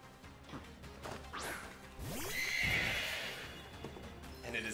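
Glastrier, the ice horse from a Pokémon video game, lets out a loud synthetic neigh with whooshing and crashing effects layered over it, alone and without talk.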